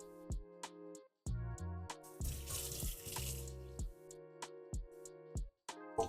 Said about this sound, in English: I rinse really carefully